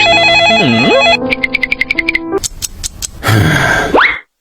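A loud phone ringtone plays alone: a warbling tone, then a rapid chain of bright beeps, ending in a rising sweep that cuts off abruptly.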